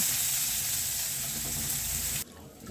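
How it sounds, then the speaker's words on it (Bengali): Potatoes frying in hot oil left over from frying pointed gourd, a steady broadband sizzle that fills the clip and then drops off sharply near the end. "পটল ভাজার তেলেই আমি আলুগুলোকে ভেজে নেব"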